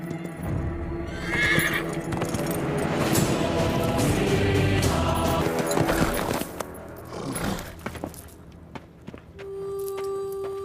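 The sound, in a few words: horse neighing and running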